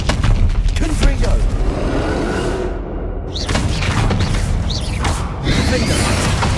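A Confringo spell in Hogwarts Legacy erupts with booming blasts and rushing whooshes amid continuous, loud game noise, with one brief lull in the middle.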